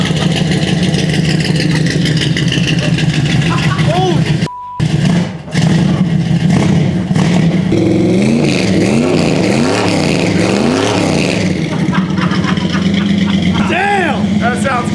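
A 340 Duster V8 hot rod, revived after sitting abandoned for 30 years, revs loudly and steadily for several bursts, with a brief cut in the middle, while excited voices talk and cheer over the engine.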